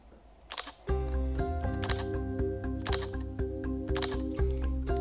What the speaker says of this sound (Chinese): 配上 X14 这次脆脆的快门声